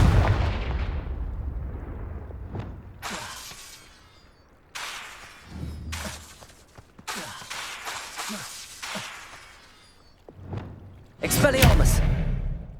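Repeated Confringo fire-blast spells from the Hogwarts Legacy video game erupt as sharp, loud explosive bursts spaced a second or two apart, with a heavier blast near the end and quiet gaps between.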